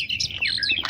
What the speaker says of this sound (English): It's kind of annoying with the birds.